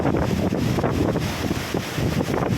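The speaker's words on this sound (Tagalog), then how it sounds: "Ay talaga namang lakas ang hangin." Strong wind at the seashore during a typhoon buffets the microphone with a constant, heavy roar and low rumble, with no voices.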